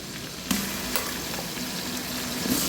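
Ginger garlic paste fries in a hot pan for biryani, giving a steady, close sizzle broken by a couple of soft spoon clinks.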